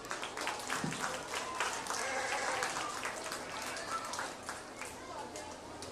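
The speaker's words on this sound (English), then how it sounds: "Let's go ahead and give them all a round of applause." An audience claps for exhibitors and their lambs in a livestock show ring at a county festival: a faint, steady patter of applause lasting several seconds, with a voice speaking over it.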